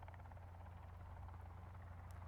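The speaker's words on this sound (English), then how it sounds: "A helicopter on this island?" A helicopter in the survival video game Sons of the Forest drones steadily with a deep, continuous rotor throb, moderately distant and alone, with no talk over it.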